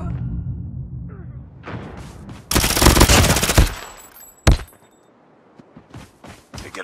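Call of Duty gunfire erupts in a loud burst of automatic shots in the middle, followed by a single sharp blast and scattered softer in-game sounds.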